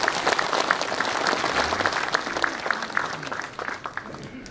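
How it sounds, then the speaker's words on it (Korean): Audience applause at a Confucian academy restoration completion ceremony, honoring two guests, with many hands clapping in a brisk, crowded burst that gradually thins and fades toward the end. "두 분께 박수 좀 부탁드리겠습니다."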